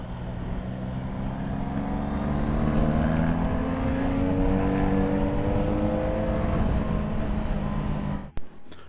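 A 2019 Honda CB500X motorcycle rides along an open country road with a loud, steady engine drone whose pitch climbs gradually as it accelerates. It ends in a brief buffeting thump.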